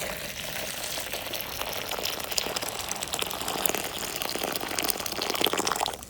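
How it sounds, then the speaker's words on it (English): Water pours and bubbles into a caustic soda bath set up to strip a Matchbox BMW 750iL diecast model, a steady close hiss and gurgle running without a break. "Get the water in."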